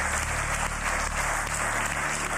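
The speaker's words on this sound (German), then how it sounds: "erstmal einen großen Applaus für diese beiden tollen Kandidatenpaare" A TV cooking-show studio audience applauds, a dense, continuous wash of clapping at moderate level that holds steady for a couple of seconds.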